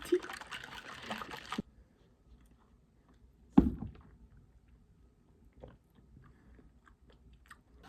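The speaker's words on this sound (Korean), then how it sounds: "드디어 대만 버블티" Taiwanese bubble tea is drunk through a straw and chewy tapioca pearls are chewed, heard as a close slurp followed by a sharp suck and soft, sparse mouth noises in an otherwise quiet room.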